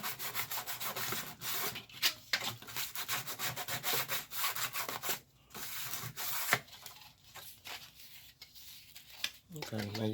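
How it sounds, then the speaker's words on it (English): Sandpaper rubs back and forth over a subwoofer voice coil in steady, scratchy strokes, fairly faint and close, with brief pauses and some low talking underneath. "you take your sandpaper and you clean them up a little bit"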